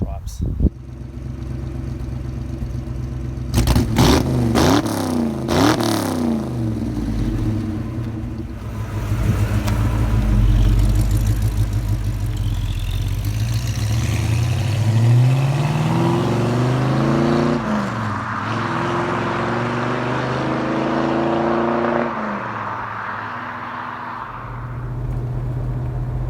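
A silver Ford Falcon XY GT 351 replica with reflective orange stripes climbs Snake Gully Road northeast of Adelaide, its engine revving up through repeated gear changes, close and loud, pitch rising and settling with each shift.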